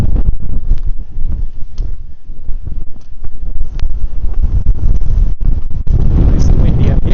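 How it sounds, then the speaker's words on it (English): Strong wind on a mountain top in the Lost Creek Wilderness buffets the microphone in loud, continuous roaring gusts, with occasional thumps and no clear speech. "Nice and windy up here."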